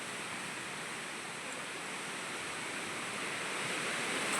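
Sea waves on a beach, a faint, steady broadband wash of surf with no distinct breaks, continuous and distant, slowly swelling slightly toward the end, no voices.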